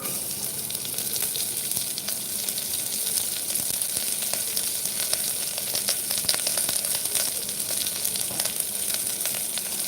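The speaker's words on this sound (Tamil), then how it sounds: "பெரிய வெங்காயத்தை நீர் வாக்கில் கட் பண்ணி எடுத்து வச்சுருக்கேன் அதை சேர்த்துக்கலாம்" Sliced onions fry in a pan for tomato rice, giving a dense, even sizzle with crackling pops and occasional stirring, close and constant across the stretch with no speech.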